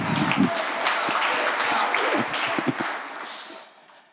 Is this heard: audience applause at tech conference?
yes